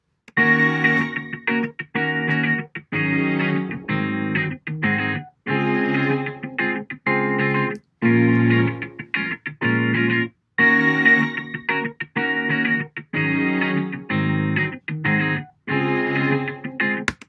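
Three synthesized MIDI harmony parts play together in chorded harmony, phrased in short repeated blocks with brief gaps, steady and fairly loud.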